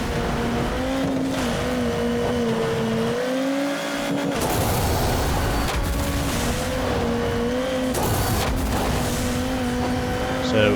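A car in the MotorStorm racing game braking in a rally event, its engine holding a steady droning pitch that dips and then rises again, with brief tire noise in between and no voices.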